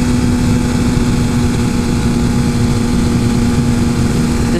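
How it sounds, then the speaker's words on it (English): Suzuki GSX-R 1000 superbike engine running steadily at around 8,000 RPM, a loud, continuous droning roar with a strong steady tone, heard up close without any talking. "So we're at 8K RPM, red line is about 13."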